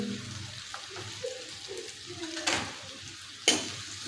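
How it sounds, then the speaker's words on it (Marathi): Onion, garlic, ginger and chopped green chili sautéing in a pan for dhaba-style dal tadka, a soft sizzle with spoon scrapes and stirring clatter, two sharper clanks near the end. "आता हे सर्व साहित्य अगदी कांदा गुलाबी कलर होईपर्यंत चांगलं परतून घ्यायचं आहे"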